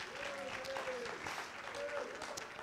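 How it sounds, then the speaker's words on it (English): Church congregation clapping in praise, a dense steady wash of many hands under a sustained singing or shouting voice that rises and falls. "Give the Lord a hand clap of praise and a shout of triumph."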